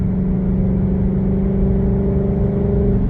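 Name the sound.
car with 5.0 engine revving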